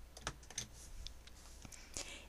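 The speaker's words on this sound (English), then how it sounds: "So I'm going to hit Control-K on my keyboard to clone it." A computer keyboard shortcut, Control-K, is pressed during design work in Xara Designer Pro, giving several soft, close key clicks spread over a couple of seconds in a quiet room.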